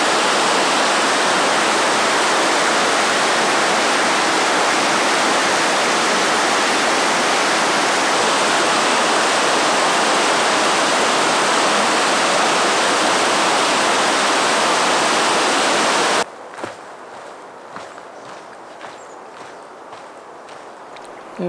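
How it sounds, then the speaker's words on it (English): Shadow Creek rushes loudly and steadily in the High Sierra's Ansel Adams Wilderness, a close, dense roar of flowing water that cuts off abruptly near the end, leaving a much quieter stretch with faint scattered sounds. "Crossing of Shadow Creek."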